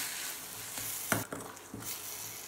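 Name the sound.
onions and sugar being stirred and fried in a pan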